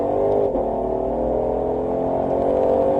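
Ford Mustang GT500, 760 hp, on the Nogaro circuit, its engine holding a steady, loud, close drone under throttle, with a slight dip partway through.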